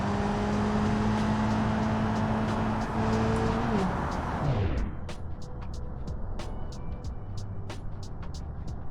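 A car in the BeamNG Drive game races at 130 km/h toward a piano, its loud engine droning steadily with a falling tone before cutting out. Afterwards come sharp repeated ticks and clicks over a quieter rumble.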